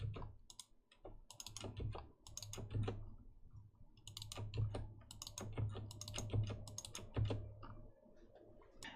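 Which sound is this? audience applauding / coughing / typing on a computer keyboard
typing on a computer keyboard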